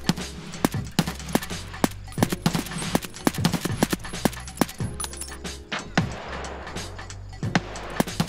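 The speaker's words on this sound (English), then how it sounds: "He's getting shot at." Rapid gunfire in Escape From Tarkov, a dense string of sharp cracks and bursts at irregular intervals over a low steady hum, close and fairly loud.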